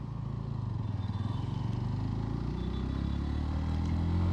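A Hero Glamour 125cc motorcycle with a four-speed one-down gearbox riding along, its steady low engine note pulsing continuously with a slight rise in pitch, under rushing wind and no talk.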